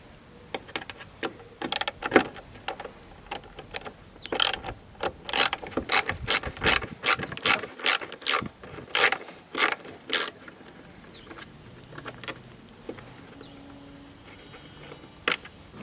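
Clicking ratchet-like bursts while Phillips screws are backed out of a Mitsubishi Mirage light housing for a bulb change, a long irregular run of sharp close clicks with brief pauses between them, no voices.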